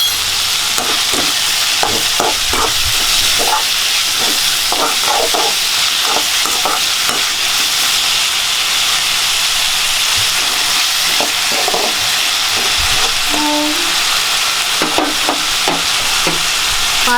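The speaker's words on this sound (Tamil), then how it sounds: "வெங்காயமும் தக்காளியும் வதங்கிட்டே இருக்கு" Onion and tomato sautéing in a pan for chutney, a close steady sizzle with frequent stirring clicks and scrapes, no voices.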